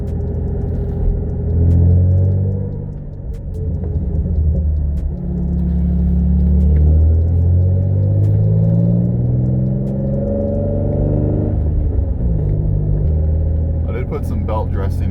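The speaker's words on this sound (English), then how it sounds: "We got a bad exhaust leak though." Infiniti G35 coupe with a six-speed manual, upgraded aluminum driveshaft and a bad exhaust leak, heard from inside as it drives: a steady low engine rumble that rises and falls with revs while a person talks over it.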